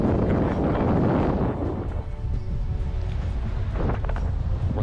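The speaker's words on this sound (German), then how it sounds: "Ist ganz schön windig hier." Strong wind gusts across a long rope suspension bridge, buffeting loudly at first and then settling into a steadier rushing roar.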